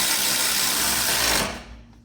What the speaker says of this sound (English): I'll use my battery ratchet to tighten it down.